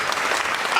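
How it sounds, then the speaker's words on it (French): Audience applause at an opposition political convention, a steady wash of clapping from a large crowd that runs the whole brief moment without pause. "applaudissons pour les amis qui viennent de toutes les provinces de la République"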